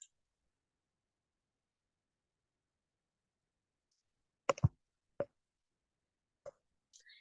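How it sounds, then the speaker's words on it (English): A few sharp computer mouse clicks in near silence, a tight double click followed by single clicks spaced about a second apart, quiet and close. "Let me just click on it."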